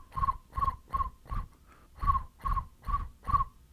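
Person imitating crickets or cicadas with the voice, giving eight short raspy chirps in an even pulse with a brief pause midway, close and fairly quiet.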